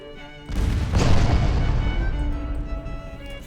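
Cruiser guns fire in a naval battle in Ultimate Admiral Dreadnoughts, giving a deep booming report that rolls and rumbles away over a few seconds.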